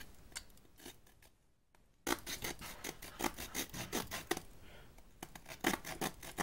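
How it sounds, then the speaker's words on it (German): The small saw blade of a Victorinox Huntsman pocket knife cutting a block of wood, a series of quick rasping strokes in an uneven rhythm, close and fairly quiet, starting after a brief pause. "Und den wir jetzt mal schauen werden, wie gut die Säge denn nun sägt."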